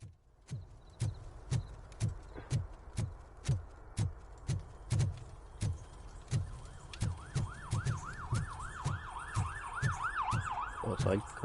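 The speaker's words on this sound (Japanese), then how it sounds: "相変わらず警察のサイレン" Police sirens wail in RoboCop: Rogue City, set in Detroit, rising and falling in the distance in the second half while sharp rhythmic knocks repeat steadily throughout.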